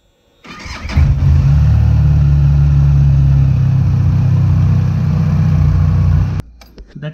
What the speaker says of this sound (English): maybe I'll just quickly turn the engine on